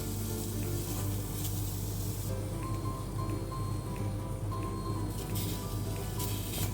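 Onions sizzle and fry in a pan for a beef curry, a steady close crackle and hiss with occasional scraping stirs, and no voices.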